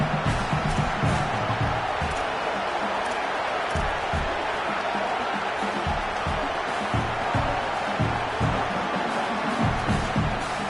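A packed college football stadium crowd roars during a fourth-down defensive stand, a dense, continuous wall of cheering and noise with a broadcast commentator talking over it.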